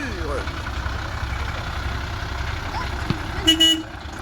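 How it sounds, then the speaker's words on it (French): A car horn gives a short, loud double honk near the end, over the steady rumble of an idling engine and passing traffic on a road. "C'est quoi ce klaxon? Ça va, On dirait klaxon du Mercedes."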